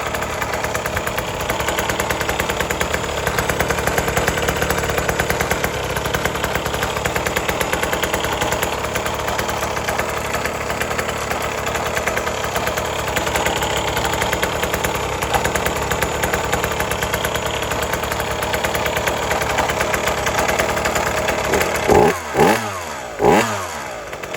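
A small old outboard motor, sitting unused for 20 years, runs steadily at a close, loud idle for over twenty seconds, then a few sharp revs or knocks come near the end.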